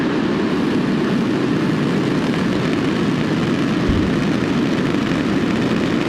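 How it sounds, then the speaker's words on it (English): A SpaceX Falcon 9 rocket carrying Starlink satellites roars after liftoff from Florida, a loud, constant, deep rumbling blast that holds without a break, heard alone with no talk. "ignition, and liftoff. Go Starlink and go Falcon."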